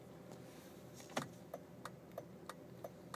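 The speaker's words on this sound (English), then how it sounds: "you may notice that the turn signal sounds are different" A BMW E38 instrument cluster gives a turn signal tick inside the parked car with the climate control off: faint, evenly spaced clicks about three per second over a low, quiet cabin hum.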